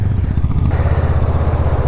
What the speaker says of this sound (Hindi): इतनी धूल है कि बाइक पूरी फिसल रही है।